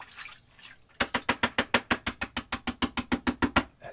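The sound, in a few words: rinsing an oil paint brush in water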